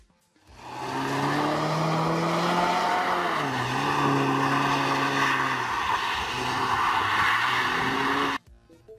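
Mini Paceman All4 heard with a steady, loud engine drone that rises and dips in pitch for several seconds, then cuts off abruptly.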